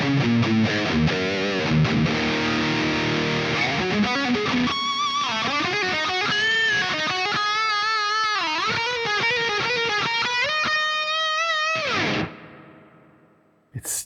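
A Carvin DC127 electric guitar through a Maxon 808 overdrive pedal plays sustained chords and bending notes with reverb, warm tone, then rings out and stops abruptly near the end.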